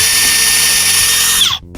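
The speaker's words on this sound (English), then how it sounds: "You can pre-drill your holes." A Ryobi drill pre-drills hinge holes in a door, a steady loud motor whine running continuously for over a second and a half before spinning down and stopping abruptly near the end.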